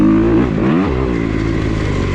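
A 2021 Kawasaki KX250X motocross bike revs loud and close on a home moto track, its engine note dipping briefly before holding a steady, buzzing drone.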